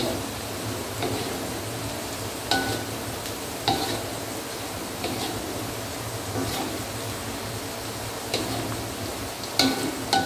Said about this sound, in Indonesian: Ini aku goreng sampai bener-bener kering